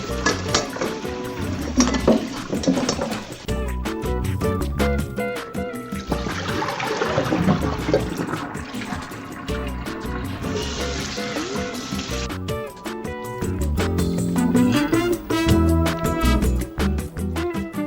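Seitan wheat gluten dough being washed by hand in water, with wet squelching, sloshing and trickling in a continuous kneading rhythm, close and fairly loud, no talking.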